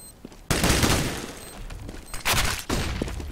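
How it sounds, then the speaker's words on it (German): Gunfire in a tactical shooter match with bomb plant rounds: loud bursts of rapid automatic fire and shots erupt repeatedly, with brief pauses between volleys. "Schießt hier ganze Munition, ey."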